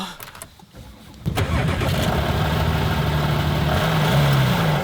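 Engine starting: a short cranking burst, then a loud, close engine catching and settling into a steady idle rumble.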